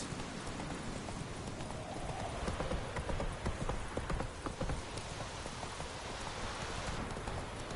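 Hooves of the horse Roach galloping in The Witcher 3, a quick, rhythmic clip-clop of hoofbeats over soft rain-like ambience, moderately close and quiet, with little change throughout.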